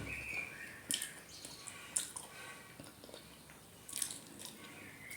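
Soft, close bites into a slice of English cake with chocolate, heard as faint crunches about a second apart, then a quiet pause and another bite, against a hushed background.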